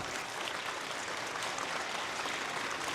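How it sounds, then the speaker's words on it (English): A chess tournament audience at an open event gives steady, continuous applause, a dense wash of clapping heard from within the hall with no talk over it. "You can give her another round of applause."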